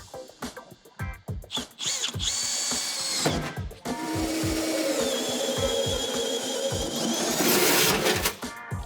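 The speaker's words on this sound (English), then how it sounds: "I'm gonna go ahead and drill our 4-inch hole here for our ball receiver." Drilling a 4-inch hole in a Ford F-250 truck bed for a gooseneck ball receiver: a power drill starts and stops in short bursts, then runs steadily with a grinding, whining bite into the metal, close and loud.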